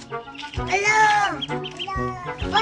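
Ducks quack loudly and close by in repeated nasal, honking bursts that fill the short scene, with voice-like calls mixed in among them.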